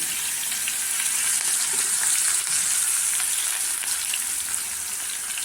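Green chilli, garlic and onion fry in a hot pan, a steady close sizzle with crackling that holds at even strength throughout, with no voices.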